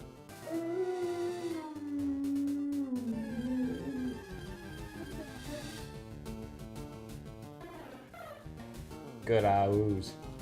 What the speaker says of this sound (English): Oh, my dog might start howling.